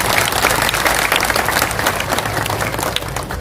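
A large crowd gathered to venerate Buddha relic urns applauds steadily and loudly, a dense, even wash of clapping with no pause or voices on top.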